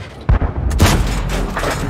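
A tank cannon fires in World of Tanks, a sharp booming shot followed by a rumbling tail, with a second blast soon after, loud and close with no talk.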